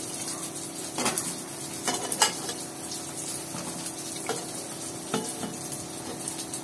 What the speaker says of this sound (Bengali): বেগুনগুলো দিয়ে এবার কচু বেগুন সবগুলো একসাথে আবারও ভালোভাবে কষায় নিতে হবে